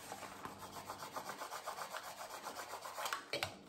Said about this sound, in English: with my scraper tool again, I'm going to scrape this on to make sure it's all nice and secure